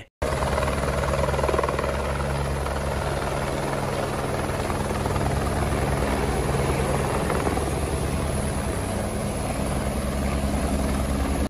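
A helicopter lands with a steady, loud rotor drone and low engine rumble running continuously from start to finish, close and unbroken, with no talking.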